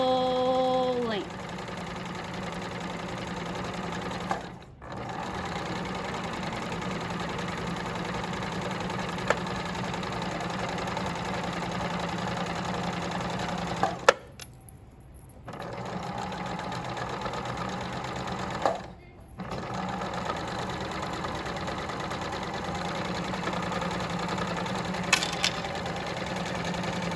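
A sewing machine stitches pillowcase trim along a straight 3/8 line, whirring steadily and close up in long runs broken by a few short pauses.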